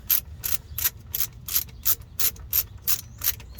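Ratchet socket wrench clicking steadily on a Chevy drive belt tensioner pulley, about a dozen crisp ratcheting bursts in even rhythm, close and loud with no talking.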